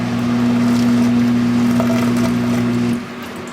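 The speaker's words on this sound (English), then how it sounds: "I'll get the wash machine going here and we'll make sure everything works." A washing machine starts running and filling with water, a steady mechanical hum with a constant tone that cuts off abruptly near the end, heard close by without speech.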